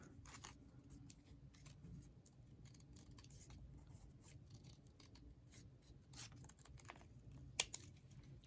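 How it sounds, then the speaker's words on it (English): Scissors snip through material for journal charms, a run of quiet close crisp cuts with small rubbing and rustling sounds between them, unaccompanied by any speech. "Now I want to start cutting this way, going up towards that corner."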